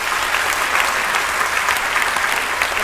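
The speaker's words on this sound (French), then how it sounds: "Alors on va encore l'applaudir très très bien." Steady, dense applause from an evening event audience fills the room at full volume, an unbroken wash of many hands clapping with no voices on top.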